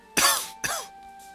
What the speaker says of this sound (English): Sorry guys, got a cough.